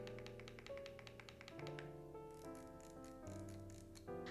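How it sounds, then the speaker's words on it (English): A Leobog K81 keyboard's rotary knob turned through a fast run of crisp detent clicks, close and steady, easing into slower spaced clicks over a soft musical backdrop. "this K81 does have a satisfying knob click"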